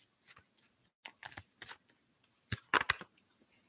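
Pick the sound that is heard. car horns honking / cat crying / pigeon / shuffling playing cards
shuffling playing cards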